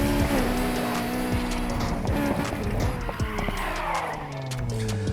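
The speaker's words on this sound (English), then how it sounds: "I'm just driving on the way here, just trying to get a feel for the car." A Honda S2000 driving in the video game Need for Speed Heat, engine revving up and down through shifts with tires squealing, loud and continuous.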